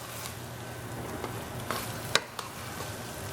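Scrambled egg folded into rice in a pan, a soft sizzle under gentle scraping and a few sharp spatula clicks against the pan, close and fairly quiet with no voices.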